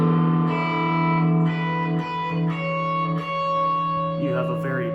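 Bright, trebly electric guitar with a Telecaster-like twang, sustained chords and single notes ringing steadily at moderate loudness with light effects, closely played.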